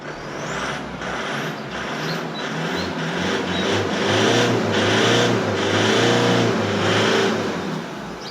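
A 2013 Isuzu D-Max pickup truck engine revs repeatedly, rising and falling in pitch with a loud, close throaty roar and a steady idle underneath.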